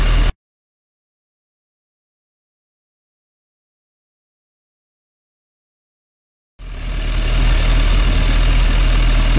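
A motorcycle resting on its centre stand; after a long stretch of silence, its engine comes in suddenly and settles into a steady, close, low running drone.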